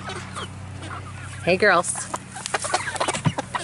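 Backyard chickens clucking and squawking as they squabble over a tomato hornworm, a short excited burst of calls near the middle with softer clucks around it, while someone speaks to them.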